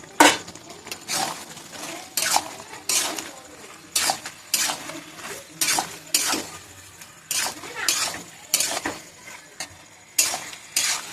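Chicken pieces and water going into a pan while chili chicken cooks, with repeated sharp metallic clinks and scrapes of a utensil against the pan in an uneven rhythm over a faint sizzle.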